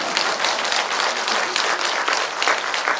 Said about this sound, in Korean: 그런데 박수 쳐야지 됩니다.